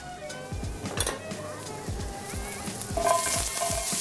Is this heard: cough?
no